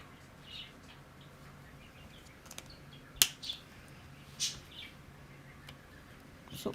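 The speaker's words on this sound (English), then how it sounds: "Harry and Ginny, they're doing their morning chirps" Pet birds chirp indoors in the morning: a few faint, scattered short tweets stand out at irregular moments over a low, steady room hum.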